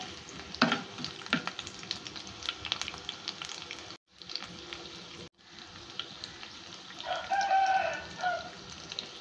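Garlic cloves and tempering spices frying in hot oil, a steady crackling sizzle with stirring scrapes, briefly cut off twice, with a rooster crowing in the background near the end.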